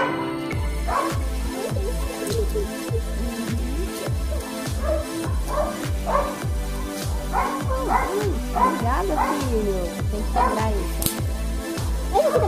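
Repeated dog barks and yips ring out in irregular bursts at a backyard fire pit at dusk, mixed with a steady rhythmic music track underneath.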